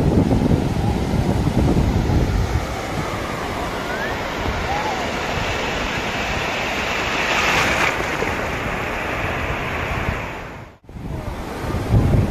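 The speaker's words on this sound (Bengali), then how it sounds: "দেখো জাস্ট ঢেউগুলো দেখো" Gentle sea waves wash steadily onto calm Bakkhali beach, a broad continuous surf roar with wind buffeting the microphone, a brief dropout near the end.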